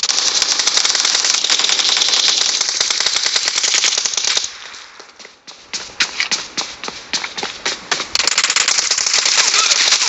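Rapid automatic gunfire in the shooter game PUBG, loud bursts of closely spaced shots, a brief lull with scattered single shots and crackling, then another sustained burst.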